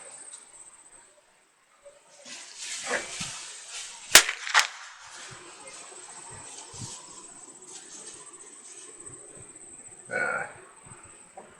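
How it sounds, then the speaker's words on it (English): Rifle shots fired while gopher hunting outdoors in Montana, heard as two sharp cracks close together amid open-air ambience, with low voices at times. "Send a couple shots."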